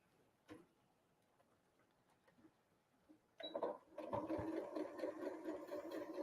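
A sewing machine stitches quilt block seams after a quiet stretch with a faint click, running steadily and close in the second half with a fast mechanical ticking rhythm.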